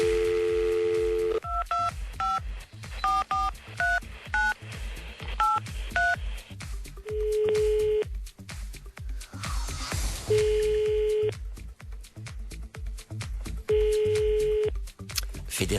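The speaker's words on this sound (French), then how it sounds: "On va composer le numéro." A telephone number dialed by keypad, a rapid string of distinct touch-tone beeps in irregular groups, then a steady ringback tone repeating in long pulses with gaps between them.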